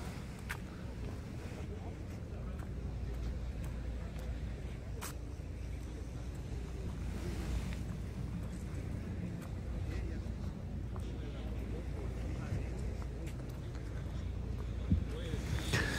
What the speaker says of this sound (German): weil hier weht eine leichte Brise